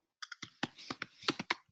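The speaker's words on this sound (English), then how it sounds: "I can hear someone typing." Quick bursts of typing on a computer keyboard during a group call, about a dozen sharp clicks in an uneven run lasting under two seconds, close and fairly loud with no talk over them.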